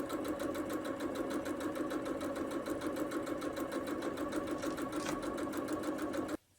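A sewing machine stitches quilt strips in a fast, even, continuous mechanical whir that runs steadily at close range, then stops abruptly near the end.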